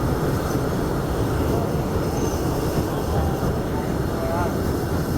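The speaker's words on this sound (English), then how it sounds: "please remain seated until the train comes to a complete stop" A Disneyland Railroad train runs along the rails, producing a steady, loud rumble and rolling clatter that continues without a break from start to finish.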